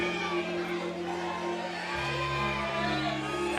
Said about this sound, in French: La foule qui crie son nom.